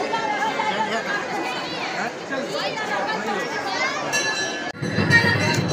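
A dense crowd chatters at a temple, many overlapping voices forming a continuous babble with a few faint clinks, and a closer rustle near the end.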